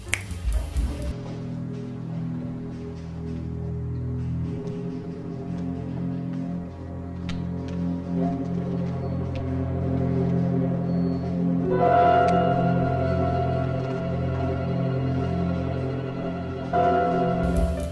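Orchestral film score music from the 1978 French film Tendre Poulet plays continuously, a low sustained bed of strings with swelling brighter chords near the end, steady and moderately loud with no speech.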